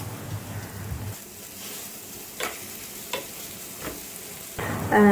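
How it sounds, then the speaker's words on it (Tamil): Water spinach stirred with oil in a pan gives a few sharp scraping strokes over a soft, steady sizzle, loud and close, with no voices. "இதுக்குள்ளே கொஞ்சம் எண்ணெய் விட்டு நல்லா மிக்ஸ் பண்ணி விடணும்"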